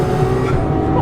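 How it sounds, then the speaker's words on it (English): Loud, sustained V12 engine roar of a Ferrari 812 Superfast at high RPM, close up and steady, with a strong low drone and no talk. "As I'm sure you can tell by the sound of the RPM of this car."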